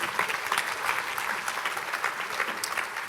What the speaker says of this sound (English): Applause for Natalie and Dries